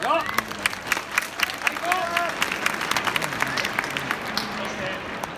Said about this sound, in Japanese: この時間でもこれだけの大歓声がありました